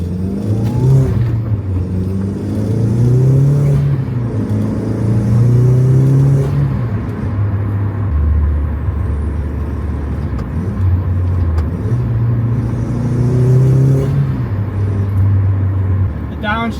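Car fitted with DIY polyurethane motor mounts accelerating and downshifting, a loud close engine drone rising and falling in pitch through revs and gear changes, with someone talking over it.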